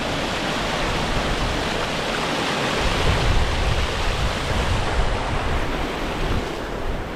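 Water pours over a man-made weir on an open countryside hike. It makes a steady, full rushing roar that swells slightly midway, and no one speaks.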